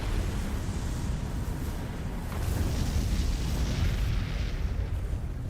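Fire attack explosion in the video game Final Fantasy XVI: a sustained, loud roaring rumble of flame and blast that swells midway and holds steady without a break, with no voices over it.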